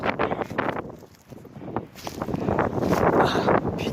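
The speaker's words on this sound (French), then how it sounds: "Oh la vache, le vent frère." Gusty wind blows outdoors at a fishing spot, roaring and buffeting the microphone in uneven surges that swell louder toward the end.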